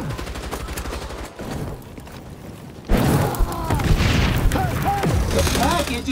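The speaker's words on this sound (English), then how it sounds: "Got that napalm you requested." Napalm strike in the shooter game XDefiant: a sudden heavy booming blast erupts midway and rolls into sustained crackling fire and scattered gunfire, loud and close, with game voices talking over it.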